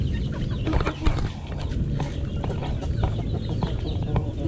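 A Rhode Island Red and Texas crossbreed chicken clucks in short, repeated bursts in a backyard, close by over a busy outdoor background with scattered clicks and rustles.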